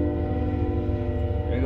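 A CSX mainline train passes close to a house in the evening, with a steady, heavy low rumble and sustained horn-like tones holding level and fairly loud for the whole stretch.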